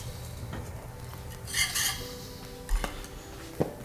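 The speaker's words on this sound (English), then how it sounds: "Now it's time to transfer it over to our bowl." Thick red enchilada sauce being moved from a pot into a bowl, with soft scraping and stirring plus a few light clinks of a utensil against metal and ceramic, close and fairly quiet, no voices.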